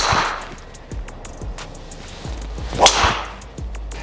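A golf ball is struck off the tee with a Cobra Aerojet driver, giving a sharp, solid crack outdoors among faint wind noise, with a few quieter ticks and knocks scattered around it.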